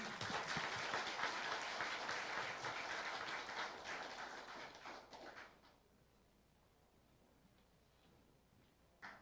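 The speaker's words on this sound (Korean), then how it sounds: "큰 박수 부탁드립니다" Applause from a ceremony audience at a university founding anniversary event, fairly distant and soft, sustained for several seconds before fading out into quiet room tone.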